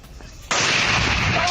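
A sudden loud blast from bombing in Rafah, striking near an ambulance during a rescue of the wounded, bursts in after a quiet moment and stays as a sustained, roaring broadband rumble to the end.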